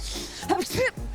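A woman sneezes once, a short burst set against a steady low hum of background noise, with voices nearby.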